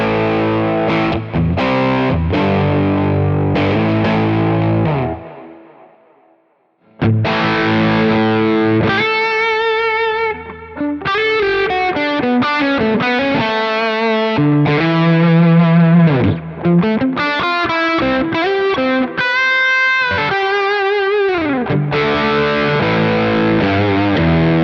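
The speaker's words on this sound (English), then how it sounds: "some nice overdriven tones you can get here" Overdriven electric guitar through a TONEX ONE and Nano Cortex plays chords and single-note lines with a short pause near the start, loud and sustained with no talking.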